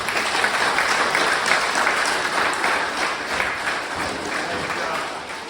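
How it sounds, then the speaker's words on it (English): A large crowd at a Monster Energy event in Ireland applauds steadily and loudly, dense clapping filling the whole stretch without letting up. "Give yourselves a round of applause."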